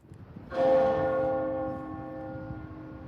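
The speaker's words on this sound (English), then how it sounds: "a bell tolled 97 times" A single stroke of a town hall bell rings out, clear and resonant, then hums away slowly in a long fading decay over faint background noise.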